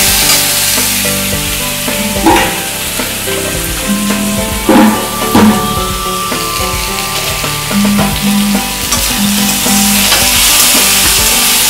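A loud, constant sizzle of mango pieces frying in a pan, with occasional clinks and scrapes of stirring over the steady hiss.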